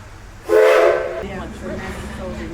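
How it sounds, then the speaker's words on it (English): Steam whistle of the Edison locomotive at Greenfield Village, one loud tonal blast that quickly fades into a softer hissing tail. "Once the whistle sounds, it will be safe to exit on the left."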